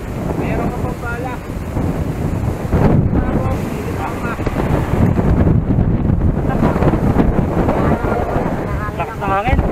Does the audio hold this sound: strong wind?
yes